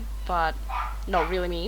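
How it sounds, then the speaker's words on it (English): A dog gives two short, high yipping barks close by, breaking through a person's speech. "If you could hear something in the background, is my dog."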